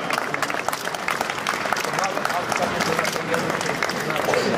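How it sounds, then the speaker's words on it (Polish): Audience applause at a rally award ceremony for the 7th Rajd Lotos 2011, steady dense clapping and crowd babble filling the whole stretch, moderately loud and continuous, with a voice talking over it. "I serdeczne brawa."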